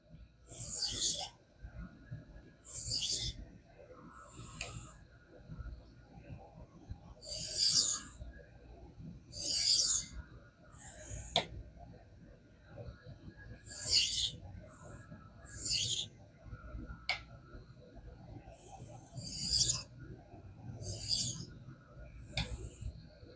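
A knife edge drawn across a King whetstone to work the burr, with repeated short raspy strokes in an uneven rhythm separated by brief pauses, close up and clear, with no voices.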